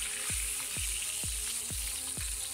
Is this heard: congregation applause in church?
no